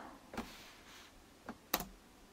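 A Dell G15 Ryzen Edition laptop button is pressed, giving a few faint, sharp clicks spread over a couple of seconds, the last one loudest, in a quiet room.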